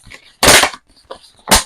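A painted polycarbonate RC car body is folded and crushed by hand, making sharp crackling crunches in a few short bursts separated by quieter creaks.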